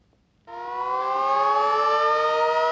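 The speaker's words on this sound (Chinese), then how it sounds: "印度南部的小村子巴德冈准时响起警笛声，宣告1个半小时的数位解读时刻来临" A civil defense siren sounds in a small village in southern India, marking the start of the nightly ninety-minute screen-free period; it switches on abruptly and holds a loud, steady wailing tone.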